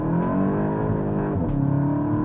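A VW MK8 GTI accelerating hard in second gear, its engine note rising steadily in pitch and loudness and then shifting near the end, heard loud from inside the car with no talking.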